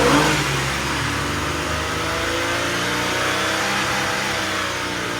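A running 3.8 engine revving as the throttle is opened during a mass airflow sensor test, a loud close rising roar that settles into a sustained high-rpm drone.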